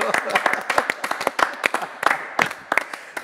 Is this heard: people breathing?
no